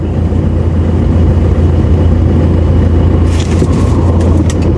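Toyota Hilux engine rumbling steadily up close as the clutch is slowly released from a standstill, a constant low drone with a brief higher rattle near the end; no talking.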